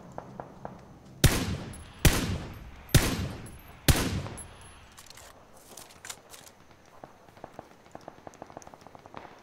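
Gunfire in the battle-royale game PUBG: four loud, sharp shots spaced about a second apart, followed by quieter distant pops and crackles scattered through the rest of the clip.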